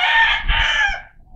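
A rooster crows once, loud and close, with a full drawn-out call that fades at the end and no other sounds around it.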